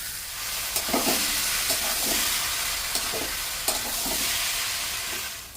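A dhaba-style egg tadka masala fries in a pan at home, a constant soft sizzle broken by rhythmic scraping and knocking as a spatula stirs it, close by and with no talking.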